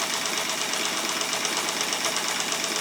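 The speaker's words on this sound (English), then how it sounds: "Now we can go right into a zigzag stitch." A Kenmore 158.523 household sewing machine runs steadily through a zigzag stitch, its close, even mechanical whirr and rapid needle rhythm continuous and unbroken, with no voices.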